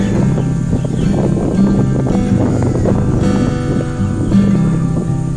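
Strong wind buffets the microphone with a constant low rumble in a Bangladeshi village, steady and loud for the whole stretch, with no speech.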